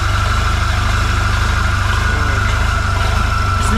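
Scout TE-504 tractor diesel engine idling after standing unused for three weeks, a loud, close, steady low rumble with an even rapid chugging pulse throughout.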